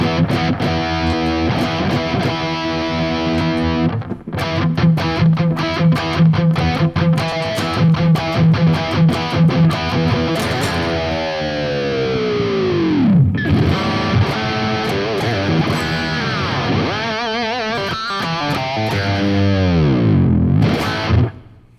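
An electric guitar through an R&R Amplification SL/LD preamp on its super gain setting, with heavy, saturated high-gain distortion, plays chords and sustained bending notes, loud and continuous, ending in a sudden cut.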